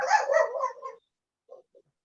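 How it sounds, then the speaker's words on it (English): A dog gives a short burst of a few quick barks nearby, then a couple of faint, brief yips after a pause. "That's my dog."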